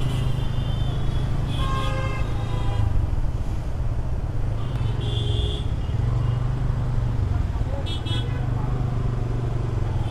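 Congested city road traffic in Bangladesh, heard from a motorbike, with a constant rumble of engines and several car horns honking in short bursts at intervals.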